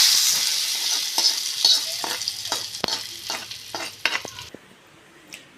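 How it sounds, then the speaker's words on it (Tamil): A hot tempering is poured into chayote kootu in a home kitchen, giving a bright hiss that fades over a few seconds while spoon scrapes and taps against the vessel continue. "இப்போ இந்த தாளிப்பை இதில் ஊற்றிக்கிடுவோம்"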